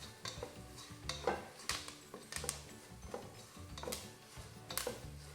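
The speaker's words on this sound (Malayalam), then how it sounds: "1/4 ടീസ്പൂൺ മഞ്ഞൾപ്പൊടി, ഇതും കൂടി ആഡ് ചെയ്ത് കൊടുത്തിട്ട് നന്നായി മൂപ്പിച്ചെടുക്കാം." Chilli powder, crushed chilli and turmeric roasting in a pan while being stirred, heard as faint, soft scraping and light metallic clinks of a utensil in a steady rhythm.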